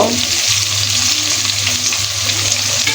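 Onion, dried chili and garlic fry in a pan for a jute leaf and lentil dish, a loud, even sizzle that stays close and steady throughout with no talking.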